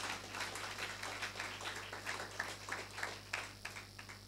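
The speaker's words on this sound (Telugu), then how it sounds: "గట్టిగా చప్పట్లు కొట్టి ప్రభువుని మహిమపరచండి" A church congregation at a wedding thanksgiving prayer claps loudly and rhythmically together, a dense steady stream of hand claps over a constant low electrical hum.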